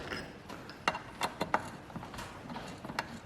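Metallic clicks and ratcheting taps come as a seat rail bolt with a washer is screwed in while fitting a Crank Motorsport superlow seat rail to a Nissan Silvia or Skyline, close but fairly soft.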